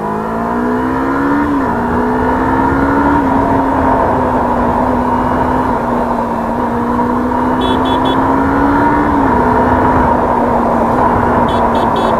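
Kawasaki Ninja 300 motorcycle fitted with a brass chain sprocket, accelerating hard in first gear: a loud, close, sustained engine drone whose pitch climbs and shifts slightly.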